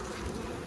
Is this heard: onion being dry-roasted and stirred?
no